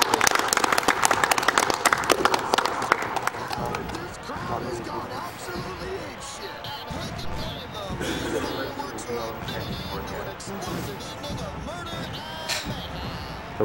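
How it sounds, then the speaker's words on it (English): Crowd at the Summer Games Done Quick 2014 speedrun marathon cheering and applauding loudly at the finish of a run, a dense roar of clapping and shouts that stays steady, with voices talking over it. "The crowd is going crazy."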